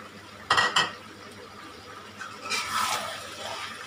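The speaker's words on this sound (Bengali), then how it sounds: "তাড়াতাড়ি করে মিশিয়ে দিতে হবে" Capsicum being stirred into beef sizzling in a pan: two sharp scraping clatters near the start, then a broader swelling rush of stirring and frying sizzle later, with no talk.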